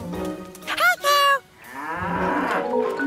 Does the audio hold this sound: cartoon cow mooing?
yes